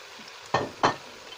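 Onions and tomatoes tipped onto browning meat in a Cookeo multicooker for Moroccan couscous, two quick close scraping stirs over a faint background sizzle, no voices.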